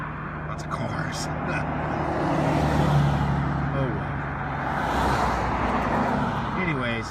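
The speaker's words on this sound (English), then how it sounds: "Lots of cars." Steady roar of cars passing on a road, a broad continuous traffic wash that swells and fades with each vehicle, with someone talking briefly over it.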